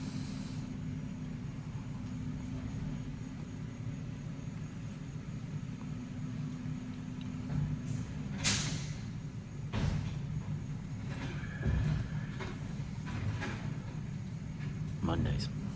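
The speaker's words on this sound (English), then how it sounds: "That is the trash truck now." A garbage truck working outside gives a low, steady engine rumble with occasional clanks and hisses, heard faintly through walls beneath a person talking nearby.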